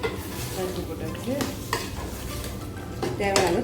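Lentils for okra sambar go into a hot pan of oil and chili and are stirred, giving a close sizzling hiss with spoon scrapes and light clatter against the metal.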